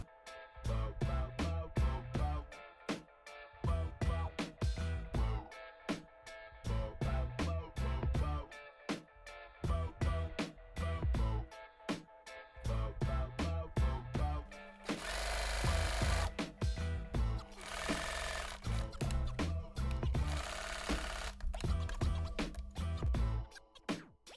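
A sewing machine stitches a striped front dress panel to the back panel in quick bursts of rapid mechanical hammering, separated by short pauses, with a denser, longer run toward the end.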